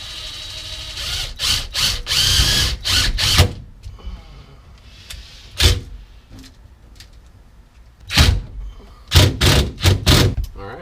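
A power drill drives a sheet metal screw into a 1966 Ford Mustang to fix a seatbelt tether loop, in several short loud whirring bursts separated by quiet gaps and a few knocks.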